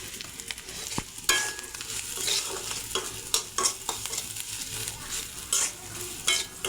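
Onions fry in a pan with dried puti fish, green chilies and salt, a continuous close sizzle broken by repeated scraping, clattering stirs of a spatula at an irregular pace.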